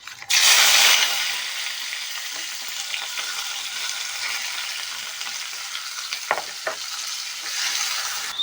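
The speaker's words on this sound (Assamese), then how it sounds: "পিঁয়াজ, আদা, নহৰু, জলকীয়া একেলগে তেলত দি দিছোঁ।" Onion, ginger, garlic and chili hit hot oil with a loud burst of sizzling that settles into a steady, close frying hiss, with a couple of stirring clatters near the end.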